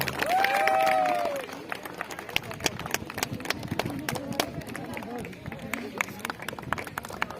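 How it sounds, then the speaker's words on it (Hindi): Crowd applause at a felicitation ceremony during a local final match event, with scattered claps over a noisy gathering, preceded by a brief tonal voice or horn and with talk and crowd murmur around. "जोरदार तालियां बजाएं।"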